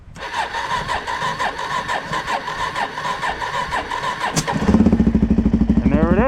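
A Suzuki DRZ400 motorcycle engine, started cold, turns over with a steady rhythmic cranking for several seconds, then catches and fires into a loud, lumpy idle that keeps running close by, with no talk.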